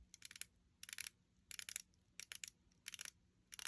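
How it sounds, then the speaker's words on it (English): The 120-click unidirectional bezel of a Seiko Turtle Save The Ocean Great White Shark dive watch is turned, giving quiet, close bursts of rapid ratcheting clicks separated by short pauses. "not the greatest feeling or sound you're ever going to hear from a bezel"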